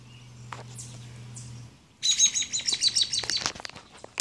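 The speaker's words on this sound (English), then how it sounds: "Oh, there's a bird." A small bird chirps in quick, bright bursts nearby, a rapid series of high tweets following a quieter stretch with a low hum.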